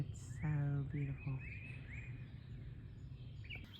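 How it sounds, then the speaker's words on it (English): Birds sing outdoors in Georgia on a shady morning, a few short chirps and whistled notes close together early on, then fainter calls over a steady outdoor hum. "I'm sure you can hear all these beautiful birds in the background."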